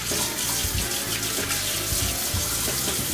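Hot tap water runs hard over hands stained with red chili powder, a loud, steady, close splashing rush with no pauses.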